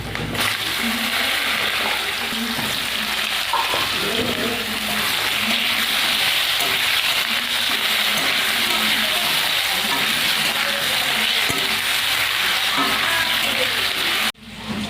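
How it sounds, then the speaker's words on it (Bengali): Potato and green plantain pieces fry in oil with a dense, continuous sizzle, close and loud, with faint stirring beneath and a brief break at the very end. "এবার আলু কলাটা আমি ভেজে নেব।"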